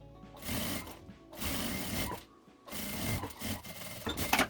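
Sewing machine topstitching the lining of a handmade fabric pencil case, running in three loud close bursts of steady mechanical stitching separated by short pauses, with no talking.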